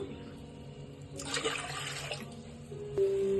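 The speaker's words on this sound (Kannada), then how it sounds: "ಕುಕ್ಕರ್ಗೆ 2 ಗ್ಲಾಸ್ ನೀರು ಹಾಕ್ತಾ ಇದ್ದೀನಿ." Water poured into a pressure cooker for cooking lentils makes a short splashing rush of about a second, set against a low kitchen background hum.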